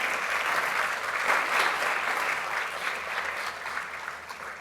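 Full audience applause for a panel of judges at a university pitch event, a thick continuous wash of clapping that holds loud for several seconds and tapers slightly at the end.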